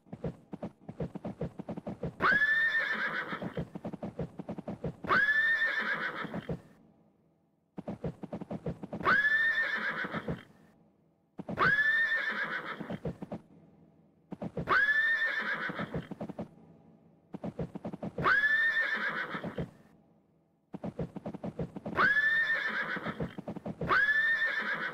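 Shetty the pony in the PC game Das Reiterland gallops and jumps: a steady clip-clop of hooves runs throughout, broken every few seconds by loud repeated whinnies and neighs, about eight in all, close and clear.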